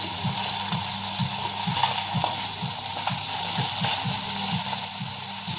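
Salmon and scallops fry in a hot pan with a steady, close sizzle, and sharp spitting pops break through every so often. Low-pitched tonal pulses repeat throughout beneath the frying.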